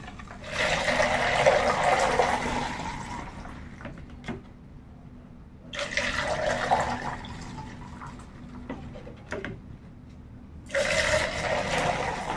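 Seaweed solution being stirred in water makes swishing, sloshing bursts of liquid that come in three long rounds of a few seconds each, separated by quieter pauses with small drips and clicks.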